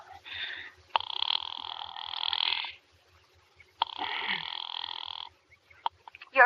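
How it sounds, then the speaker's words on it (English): An old-style telephone rings in a vintage suspense radio drama with two long electric bell rings separated by a pause, clear and fairly close. Faint clicks follow at the end. "Ringing the police department."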